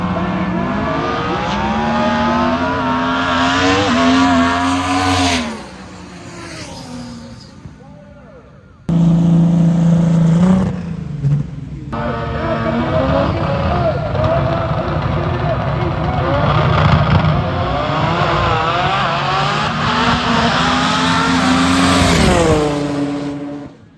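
Chevrolet Camaro race car accelerating on a drag track at a high-horsepower event, a loud roaring engine that climbs through gears, drops away, then roars again near and sustained.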